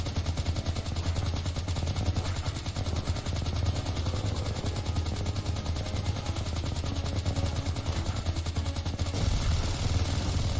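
Relentless rapid-fire shooting sounds from an arcade-style fish shooting game, a dense continuous clatter of gunfire with no pauses and no voices.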